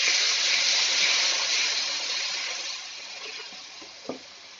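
Spices and tomatoes for a Bengali-style egg curry fry in a pan, giving a steady broad sizzle that slowly eases, with a single sharp utensil knock near the end.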